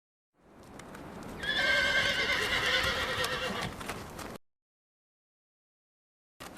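A horse whinnies loudly and at length in an audio drama of Shakespeare's King Lear, with hooves clip-clopping beneath it. The sound then cuts off abruptly into silence.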